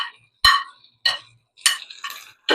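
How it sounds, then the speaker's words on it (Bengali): Halved yellow and red bell peppers stir-fried in a pan, heard as four or five separate scraping, sizzling bursts of the spatula against the metal, with short silences between them. "দিয়ে এখন একটু ভাজবো। এই যে একটু ভেজে নিলাম।"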